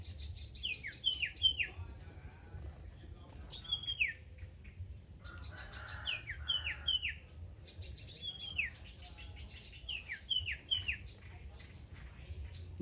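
Repeated bright bird chirps in short descending clusters of two or three notes, recurring every couple of seconds over a quiet low background rumble, fairly close.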